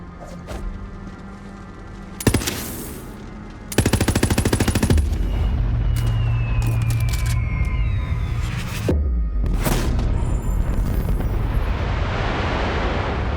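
Loud sustained machine-gun fire in Borderlands 3, aimed at the moon, comes in long rattling bursts with explosive thumps and a rising whine between volleys.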